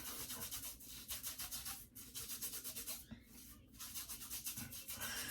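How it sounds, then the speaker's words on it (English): Hands rubbing together with lathering shampoo, a continuous close, wet, rhythmic swishing with brief pauses. "Rub your hands together."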